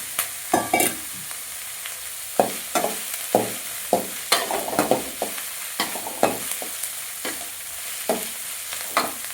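Veg noodles with masala are stir-fried in a sizzling pan, with about a dozen sharp, rhythmic scraping strokes of the spatula over a continuous fry hiss, close and loud, with no talking.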